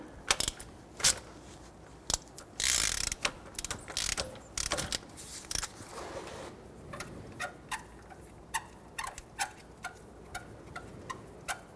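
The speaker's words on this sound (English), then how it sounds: "Remove the crank bolt." A ratchet wrench loosens the crankshaft bolt on a 1992–1996 Toyota Camry 2.2L four-cylinder engine during a timing belt job, with rapid clicking bursts, a sharp release, then slower separate ticks, close and clear without speech.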